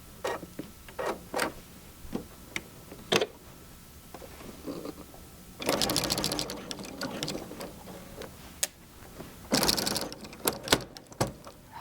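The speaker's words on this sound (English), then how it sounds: "I'm going to stitch this last 6 inches of this binding piece" A sewing machine stitches quilt binding in short bursts, a rapid mechanical whir between clicks and taps of handling, close and fairly quiet, with two longer runs of stitching.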